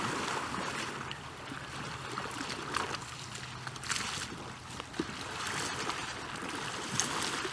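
Raft paddled down a river while paddles are tested, with a steady wash of moving water and repeated soft splashing paddle strokes at an even rhythm, fairly close.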